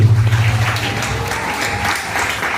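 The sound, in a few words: church congregation applauding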